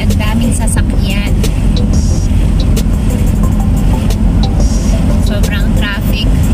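Road traffic on a road trip through La Union in the Philippines: cars and other vehicles rumble past loudly and steadily, their engines droning under voices talking nearby.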